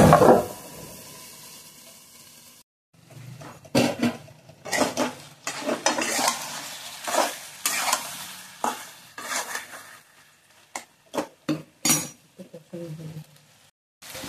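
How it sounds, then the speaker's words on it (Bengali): Potato and taro pieces with prawns cooking in a covered pan, with repeated clattering of a utensil scraping and knocking against the pan in uneven bursts, close and fairly loud. "তো এরকম ঢেকে ঢেকে কষিয়ে নিলাম।"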